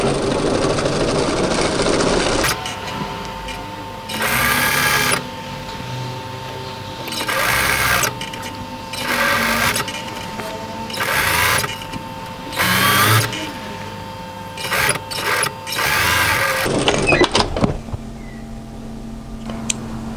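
A sewing machine stitches the hem of a camisole in a series of short bursts of motor whir separated by brief pauses, close and fairly loud.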